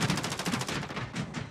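Rapid automatic gunfire in the video game Call of Duty Warzone, a fast burst of evenly spaced shots heard close and alone for about a second and a half.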